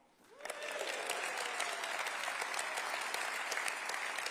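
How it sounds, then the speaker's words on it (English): A party conference crowd claps for a keynote speech, the applause swelling in quickly after a quiet start and holding as a loud, dense, sustained roar of hands. "Maybe, Shafak, you could start the applause again."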